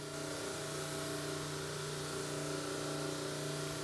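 Cobot-driven deburring wheel spinning against bolt threads, a steady whirring grind with a constant motor hum and strong sustained tones, even and close with no pauses.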